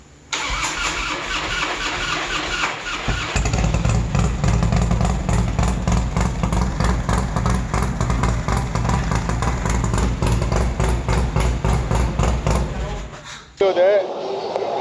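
Harley Monster 107 motorcycle at Daytona Bike Week cranks with a starter whir, then catches into a loud, close, throbbing idle that runs steadily before cutting off near the end, with talk faintly over it.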